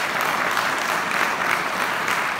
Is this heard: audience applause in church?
yes